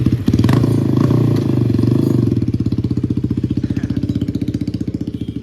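KTM Duke 390 motorcycle with a loud aftermarket exhaust, close and harsh, revving up and then settling into a rapid, even, pulsing thump that grows slightly more distinct toward the end.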